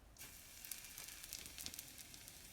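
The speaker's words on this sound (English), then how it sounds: "the frying pan has olive oil in there already. It's nice and hot." Steady, close sizzling of tofu frying in hot olive oil in a frying pan, a bright crackling hiss with small pops throughout.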